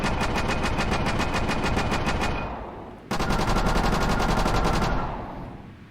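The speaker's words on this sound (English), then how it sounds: "It might be more noticeable on a gun like the LMG," LMG light machine gun in a video game fires two long, loud, close automatic bursts of rapid, evenly spaced shots with a brief pause between them, each burst trailing off into a short echo, and no voices.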